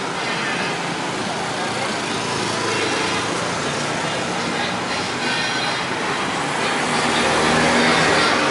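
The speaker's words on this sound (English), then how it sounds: "You got all this traffic" Busy traffic on a steep city road, a dense, continuous roar of passing vehicles with rumbling wheels and some high squeals, close and loud, with voices mixed in.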